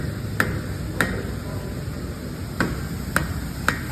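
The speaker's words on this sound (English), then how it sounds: "That's when you use an additional hammer. You hit that." A hammer striking a car wheel assembly during CV axle removal, five sharp metallic clanks at uneven intervals over a steady background hum, close and clear.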